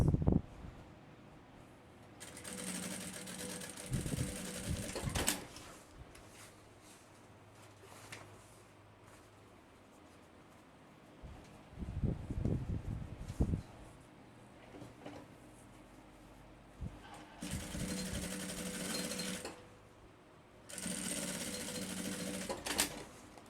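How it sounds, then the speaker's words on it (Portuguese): A sewing machine stitches the side seams of a fabric backpack with a front pocket, running in several loud steady bursts separated by pauses filled with softer handling and rustling of the material. "Aí eu já venho aqui, ó, e costuro aqui nas laterais."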